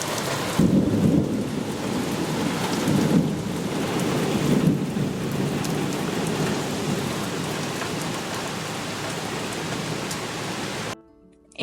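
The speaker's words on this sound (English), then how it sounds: "it was pouring rain and thunderstorming, as you saw" Heavy rain pours steadily over a garden with deep rolls of thunder swelling in the first few seconds, a dense, loud wash of downpour running continuously before cutting off abruptly near the end.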